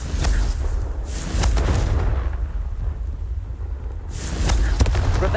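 Booming blasts of the Confringo explosive spell in the Hogwarts Legacy video game, three heavy bursts spaced a couple of seconds apart, loud and close with a rumbling tail after each.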